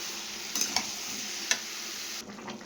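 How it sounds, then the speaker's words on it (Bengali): Potatoes and soybean chunks fry with spices in a pan, a steady soft sizzle broken by a few sharp scrapes of stirring, quiet and close with no voices. "তারপরে আলু আর সয়াবিন তুলে দিয়েছি। খানিকক্ষণ আবার ভাজা ভাজা করবো"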